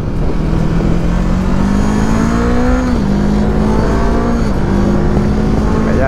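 A Voge 500cc motorcycle accelerates hard, its engine tone climbing steadily through the gears with two brief dips at the shifts, loud and close alongside steady wind rush, with no talking.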